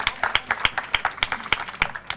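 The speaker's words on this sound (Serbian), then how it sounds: "Možemo da je pozdravimo jednim lepim aplauzom" Roughly a dozen sharp, evenly spaced claps sound nearby, like a small group at a conference starting applause in a quick rhythm.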